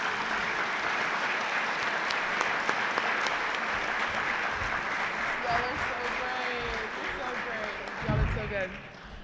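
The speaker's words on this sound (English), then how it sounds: "Give a round of applause." An audience claps at a panel discussion for a scholarship program, a dense, sustained round of applause that stays loud for several seconds before thinning out, with a voice speaking over the final moments.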